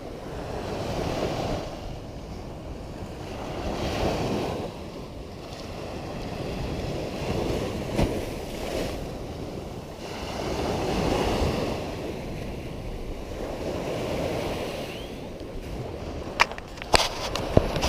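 Ocean surf rolls in on the first beach at Tayrona Park, Colombia, a steady wash of breaking waves with slow swells under blustery wind noise, a few sharp knocks near the end.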